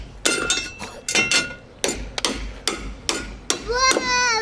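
Hammer blows smash into wooden framing during wall construction, about a dozen sharp, loud cracking whacks in irregular bursts, with a voice briefly audible near the end.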